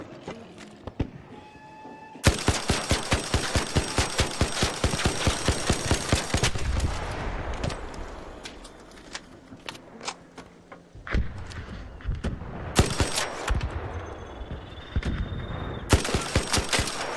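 Rapid automatic gunfire in a video game, loud dense bursts of shots that stop and start, with short pauses between volleys and a sustained clattering stretch in the middle.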